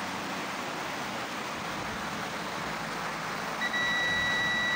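Steady hiss fills the background, then a continuous high electronic buzzer tone from a continuity tester checking a TV box's USB socket switches on near the end and holds without break.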